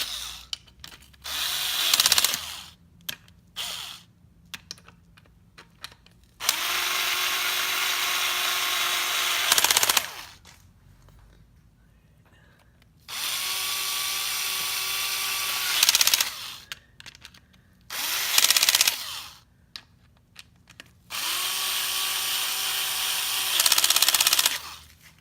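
A power tool tightens the engine cover bolts on a Garelli Super Sport moped with a NOI engine. Several loud whirring bursts of a few seconds each come close by, separated by quiet pauses.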